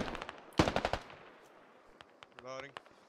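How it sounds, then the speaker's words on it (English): Automatic gunfire and grenade explosions ring out in the Squad military shooter, with a loud close burst of rapid shots, fainter scattered distant reports, and a brief rising electronic tone near the end. "Now they're throwing grenades in."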